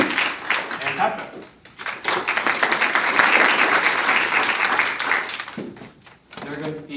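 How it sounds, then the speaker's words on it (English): Conference audience at a PyData Seattle talk on Delta Lake breaks into applause, a sustained wash of many hands clapping that swells in the middle and fades, with a speaker's voice heard before and after. "See, these claps count."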